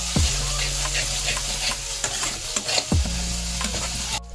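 Turmeric and homemade masala are stirred in a hot frying pan for prawn masala curry, with a steady sizzle, scraping spatula strokes and a couple of sharper knocks against the pan.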